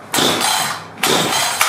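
A Husqvarna 562xp chainsaw with a failing clutch spring chugs as it tries to start: two loud, rough bursts of engine sound, close by, each dying off without catching.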